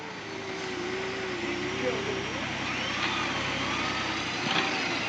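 A Ford pickup's engine revs and strains steadily while winching up a snowy hill, a sustained droning whine that shifts pitch and climbs, with someone talking over it.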